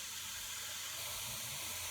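Liquid fizzing up in a preschool classroom science experiment, a steady, quiet hiss of bubbling foam with no talking.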